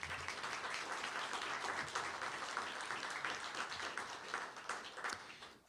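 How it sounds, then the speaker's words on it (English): A ceremony audience applauding people recognised by Utah's governor, dense sustained clapping filling the room at steady loudness before tapering slightly at the end. "let's give them a round of applause."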